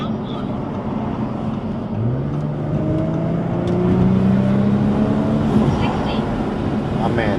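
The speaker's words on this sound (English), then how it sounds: "Turbo sounds are whack" A 600 hp Audi RS5 accelerating hard on a freeway, its engine note climbing steadily and growing louder, with rising turbo whine riding over a broad roar and people talking in the car.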